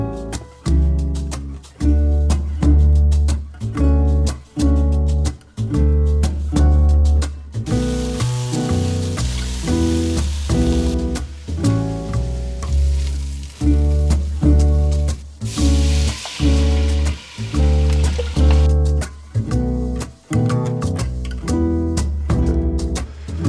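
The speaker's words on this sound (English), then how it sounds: "these short ribs, I'm going to sear these off. We're gonna add 2 of these into the pan" Beef short ribs searing in a hot pan before braising for borscht, with bursts of bright hissing sizzle that rise twice under loud, continuous background music.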